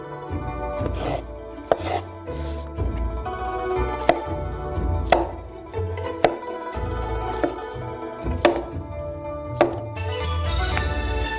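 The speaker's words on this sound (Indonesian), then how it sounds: "setiap jamur dipotong menjadi 4 bagian." Steady knife chopping of champignon mushrooms into quarters on a cutting board, sharp repeated thunks at an uneven rhythm with faint kitchen clatter, close and fairly loud.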